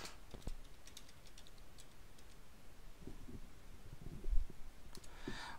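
Quiet clicks from a computer keyboard while entering spreadsheet cells in Excel, with sparse taps scattered through a soft room hiss and a slightly louder cluster near the end.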